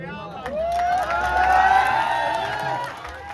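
A crowd cheers and applauds at a live foundation-laying ceremony for a girls' hostel in Patan, a steady roar of voices and clapping that swells and holds, with raised shouts over the noise.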